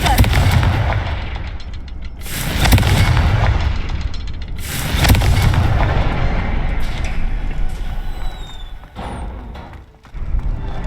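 Repeated booming blasts from the Confringo blasting curse in the Hogwarts Legacy video game, loud, broad bursts around a few seconds apart over continuous rumbling combat noise.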